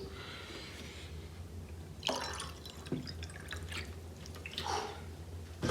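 Water is drunk in a few close swallows and gulps, with soft wet sounds and breaths over a low, steady background hum.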